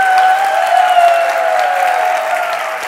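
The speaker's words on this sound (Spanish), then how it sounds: "os pido que por favor deis un muy fuerte aplauso" An audience at a public event in Valladolid breaks into strong, sustained applause, loud and even throughout, with a steady electronic tone sounding faintly beneath the clapping.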